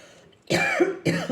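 A person nearby gives two sharp coughs with throat clearing, a gap between them, loud against a quiet room.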